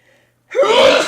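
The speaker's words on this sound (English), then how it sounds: "I would say he sneezes on the bread." A video game character sneezes on bread, giving one loud, sudden burst after a short quiet pause.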